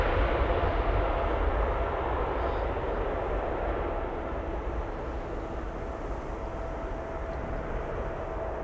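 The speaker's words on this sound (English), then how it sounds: "That means Emirates Sky Cargo is now rolling." Emirates SkyCargo cargo plane rolling at Amsterdam Schiphol Airport, a steady broad jet roar that holds level throughout, heard from a distance with no voices.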